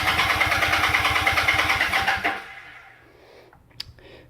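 Motorcycle engine that has sat unused for about three months, cranking and chugging in a fast steady rhythm for a couple of seconds before it cuts out, followed by quiet clicks and one sharp knock, close and fairly loud.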